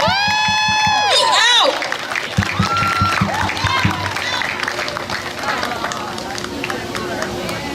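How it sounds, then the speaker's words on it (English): A crowd at an outdoor National Coming Out Day rally in Wilmington, NC claps and cheers, with loud applause and voices building after a brief musical or tonal opening, then continuing as dense, fairly close hubbub and clapping. "I think that everyone should give themselves a round of applause for being here."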